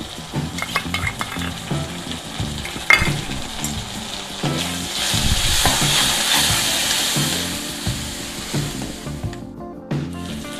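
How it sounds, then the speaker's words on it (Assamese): Close, busy sizzling of ginger garlic paste frying in oil, with repeated spatula scrapes and clinks against the pan, swelling louder in the middle. "নহৰু আদাখিনি ভালদৰে ভাজি লোৱাৰ পিছত"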